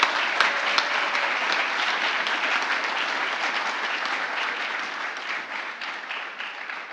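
A round of applause at an IT leaders certificate program graduation, a dense sustained clapping from the audience that fades gradually over several seconds, with no talk over it.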